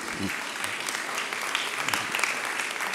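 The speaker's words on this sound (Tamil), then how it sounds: "நீங்கள் பலமாக கைத்தட்டலாம்." Inside a church, a Tamil congregation claps together in a dense, steady burst that fills the whole short stretch.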